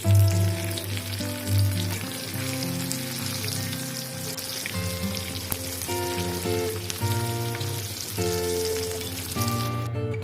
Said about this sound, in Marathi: आता आपण याच्यामध्ये आपली भेंडी हे करूया, फ्राय करून घ्यायला ठेवूया